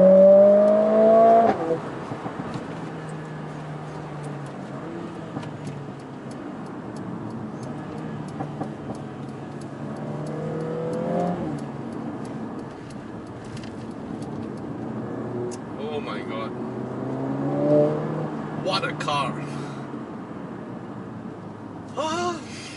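A Mercedes-AMG A45S accelerates through lunch-hour traffic in several moderate surges. The engine note rises, then drops at each gear change, with occasional sharp clicks and ticks over a steady cabin rumble.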